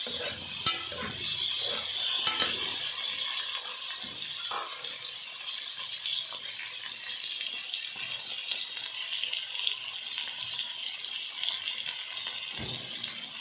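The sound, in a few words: mutton frying with browned onions in a pot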